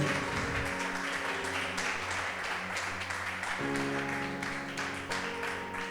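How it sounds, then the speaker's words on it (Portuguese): Steady crowd clapping with sustained musical tones underneath, continuing for several seconds. "Un aplauso a Jesús."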